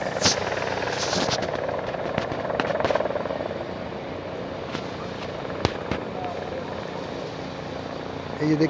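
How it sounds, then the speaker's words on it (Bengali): A helicopter's steady rotor and engine roar fills the scene at moderate distance near Kedarnath, mixed with outdoor crowd noise and a few sharp knocks. "এই দেখুন হেলিকপ্টার"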